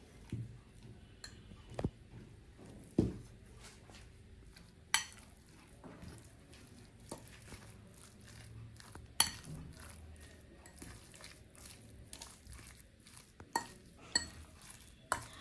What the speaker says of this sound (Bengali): এখন আমি পেঁয়াজ মিশিয়ে নিচ্ছি।